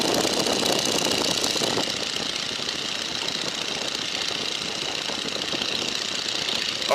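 Boeing N2S-3 Stearman biplane radial engine throttled back to 1800 rpm, a loud, steady, rough drone with a rapid knocking pulse filling the cockpit without letup.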